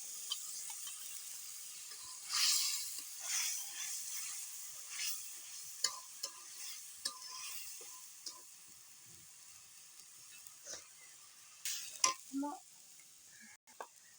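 Blended spice paste going into a pan of frying country chicken with potatoes for a Bengali curry, giving soft sizzling with scattered stirring scrapes and clinks, fairly quiet and close.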